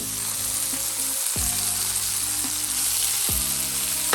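Butter burgers fry in a pan with a strong, continuous sizzle and crackle, close and loud, broken by a few soft clanks or scrapes of a utensil against the pan; no one speaks.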